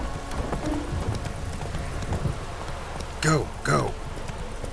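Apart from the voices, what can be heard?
horse Roach hoofbeats in video game The Witcher 3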